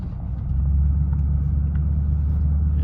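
A truck idles close by after exhaust upgrades, its engine running with a deep, mellow, steady low rumble that swells slightly after a moment and holds even, with no talking.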